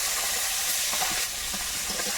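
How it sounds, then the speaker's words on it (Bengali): Small fish sizzling steadily in hot oil while being fried, a dense continuous crackle with occasional stirring, close up and with no talking. "এবারে ঝাঁকি মাছগুলো ভাজবো"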